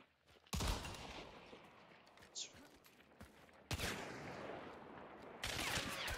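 Gunshots ring out in the Hunt: Showdown video game, several sharp cracks spaced a few seconds apart at low volume, with players chatting between them.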